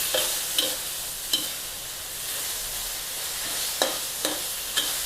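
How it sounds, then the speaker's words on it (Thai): Mushrooms stir-fried over the highest heat give a steady close sizzle and hiss, with a few sharp scrapes and taps of the spatula against the pan spaced through it. "ผัดให้เห็ดสุกค่ะ ไฟแรงสุดเลยนะคะ"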